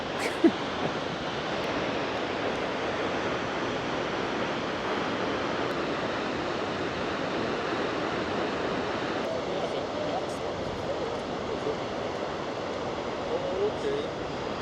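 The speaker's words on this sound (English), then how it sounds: "It's definitely a cool waterfall." A waterfall roars steadily with a constant broadband rush of falling water, unbroken from start to finish.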